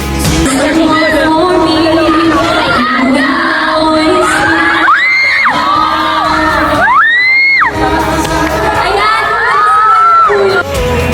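Students at a university campus concert scream and cheer in a loud, continuous crowd roar, with high shrieking whoops rising and falling over the din.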